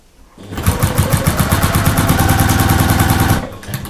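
A sewing machine fitted with a walking foot stitches steadily through several quilt layers on a lap quilt, its rapid, even needle clatter loud and close, running continuously for about three seconds before stopping.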